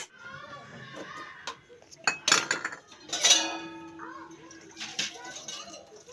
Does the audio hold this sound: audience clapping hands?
no